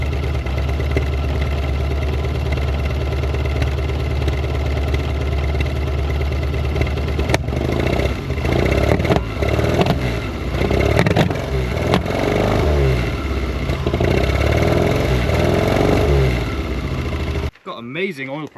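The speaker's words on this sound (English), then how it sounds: "I think it's backfiring when I give it throttle" Reliant Scimitar GTE engine running rich and popping back under throttle, a steady close idle and revving drone with irregular sharp cracks through the middle, and people talking over it.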